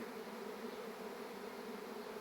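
Dense, steady buzzing of many swarming honeybees in mid-May, a continuous hum that fills the space evenly without pause.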